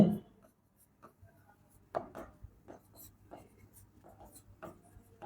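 A pen writes on paper while working an algebra problem, giving faint, sparse scratches and taps in short strokes, with soft low talk now and then.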